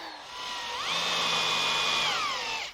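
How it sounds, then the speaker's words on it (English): Power drill boring pilot holes through aluminum to mount a bracket for a fold-down outfeed table: a single continuous whine that ramps up in pitch, holds steady for about a second, then winds back down before stopping, close and loud. "Now we can drill the pilot holes and install the bracket."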